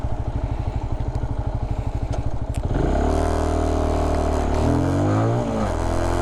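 A motorcycle engine on a practice course chugs in a steady rapid beat at low revs, then rises smoothly into a loud, climbing whine as it accelerates, close and continuous.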